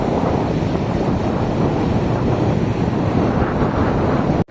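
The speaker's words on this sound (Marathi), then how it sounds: "जबरदस्त असे लाटा पण असे खूप सारे आहेत." Heavy surf at Shrivardhan beach roars steadily and loudly, mixed with strong wind buffeting the microphone, with no voices, before cutting off abruptly at the end.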